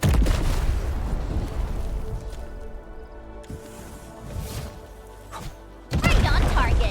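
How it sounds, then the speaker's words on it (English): Heavy booming explosion in the Arknights: Endfield game, with a loud rumbling burst at the start that decays, then a second strong blast near the end, with faint talk between. "I give that explosion a 10 out of 10."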